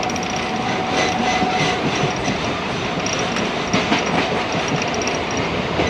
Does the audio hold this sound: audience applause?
no